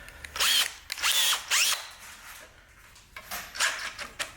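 A power drill fitted with a larger bit bores into an engine part in bursts, three strong whines close together, a pause, then two more runs, loud and close with no talking.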